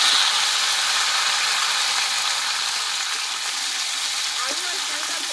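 Cut potatoes and red pumpkin hitting hot tempering oil in a pan, producing a steady, loud, hissing sizzle that holds throughout with only slight variation.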